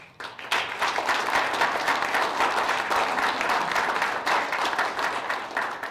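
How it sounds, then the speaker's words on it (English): A council meeting audience bursts into a round of applause, steady dense clapping that starts sharply and holds at full strength for several seconds, with no voices over it. "Let's give him a round of applause."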